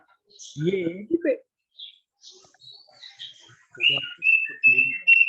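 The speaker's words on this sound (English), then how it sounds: "there's a lot of bird sound coming" Birds chirp and whistle outdoors during an online talk, with bright, short high-pitched calls and sweeping whistles scattered through the clip, growing more frequent toward the end, mixed with a person speaking.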